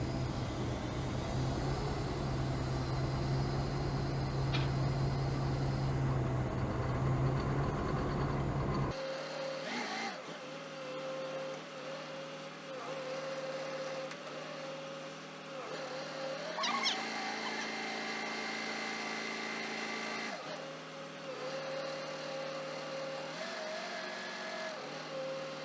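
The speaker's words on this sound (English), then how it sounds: "Now they load retort in the furnace. Here they use a truck crane for this." A truck crane's diesel engine drones and revs steadily while loading a retort into a pyrolysis furnace, a loud ongoing mechanical rumble with a low hum that cuts away partway through and shifting whines later.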